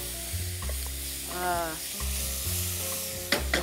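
Onions fry in a pan with a strong, continuous close sizzle, broken by stirring scrapes and a few brief clanks, loud and steady with no talk.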